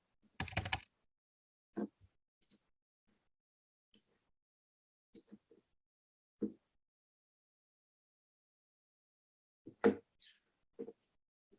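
Scattered keystrokes on a computer keyboard while entering a birth date into a life insurance platform, a few quick taps then long quiet gaps, fairly faint and isolated.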